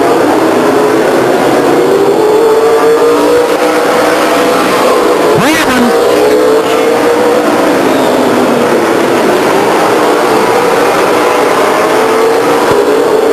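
Race cars lapping at Stockton 99 Speedway, a loud continuous engine roar with rising and falling pitch as cars pass, and a commentator talking throughout.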